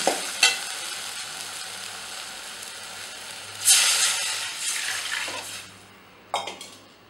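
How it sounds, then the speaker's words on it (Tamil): A few utensil clinks, then tamarind water hits a hot pan for neem flower rasam with a loud burst of sizzling that gradually settles into a hiss. "இப்போ அப்படியே நீங்கள் புளி கரைசலை ஊற்றிடுங்க."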